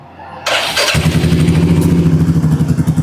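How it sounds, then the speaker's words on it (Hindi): A motorcycle engine starts with a short cranking burst, catches, then settles into a loud, steady, throbbing idle close by. "पहले अपनी बाइक को स्टार्ट कर लेता हूँ"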